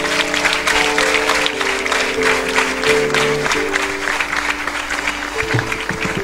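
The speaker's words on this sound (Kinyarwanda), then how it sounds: "mugahereza Imana amashyi ku bw'iyi album" A church congregation claps steadily at a choir's album launch, the applause continuous and fairly loud with a sustained musical tone underneath.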